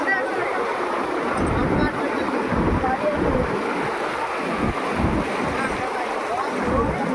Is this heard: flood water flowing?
yes